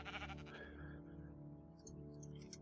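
Sheep bleating in the TerraFirmaCraft video game, a sustained wavering bleat over a steady droning game soundscape, fairly close and moderately loud with no talk.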